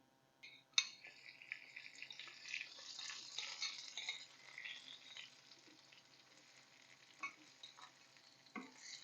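Cumin, chopped garlic and chopped onion fry in oil in a pan, a bright sizzle flaring up sharply after a soft start, then settling into a quieter crackle with occasional stirring scrapes, close by.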